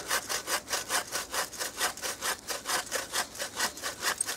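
A hand saw cutting wood with steady, even back-and-forth strokes, about three per second, rasping and close.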